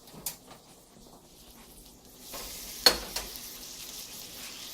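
Burger patties sizzle on a skillet, a soft crackling fry that grows louder after a couple of seconds, with a few sharp clinks of a utensil.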